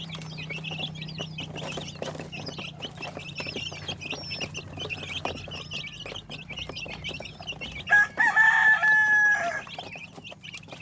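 Chicks and chickens of the Shamo breed cluck and peep busily close by; near the end a rooster crows once loudly, over a low steady hum.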